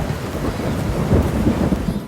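A thunderstorm at a marina produces a continuous heavy rumble of thunder over steady rain, loud and enveloping throughout, with no voices.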